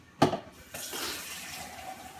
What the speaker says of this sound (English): So the water is boiling hot right now. You can see right here. I'm just gonna pour it in there.